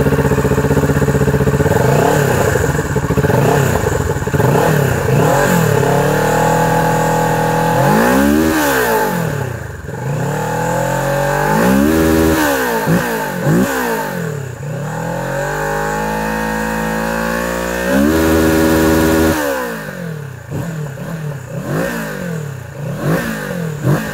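A Kawasaki Z650 motorcycle engine with its stock exhaust revs loudly and close by. Repeated throttle blips climb and fall in pitch over a steady idle, with no voices.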